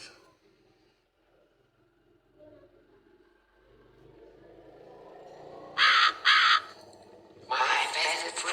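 A crow caws loudly near a big tree, two sharp calls followed by a longer burst, rising out of a quiet rural background with a faint rumble.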